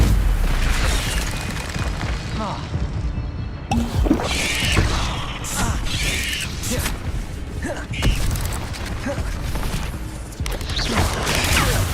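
Spell combat in the Hogwarts Legacy video game, with booming blasts, bursts and crashes layered over continuous dense game sound and music, loud throughout with sharp hits around the middle.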